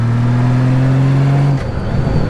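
A 2000 Honda Valkyrie Interstate motorcycle engine revs loud and close, its steady tone held for about a second and a half before it drops abruptly as a gear shifts, then picks up again.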